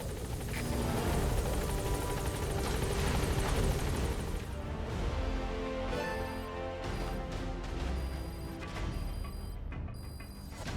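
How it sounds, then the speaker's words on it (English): The support helicopter in Metal Gear Solid V: The Phantom Pain roars close and loud with a dense rotor and engine wash, then thins out into a lighter whir with faint ticking tones. "Support helicopter has arrived."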